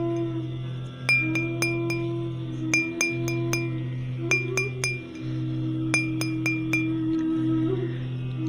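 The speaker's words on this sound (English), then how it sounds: "the bangles on her wrist were producing a tinkling sound" Light bangles on a wrist tinkle in quick clusters of three or four chimes, repeating every second or so over a low, steady hum, while yogurt is churned for butter.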